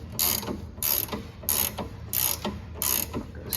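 A ratchet cranks a bolt toward a flag nut while a lower control arm relocation kit goes onto an S197 car, giving five evenly spaced bursts of rapid clicking, close and alone.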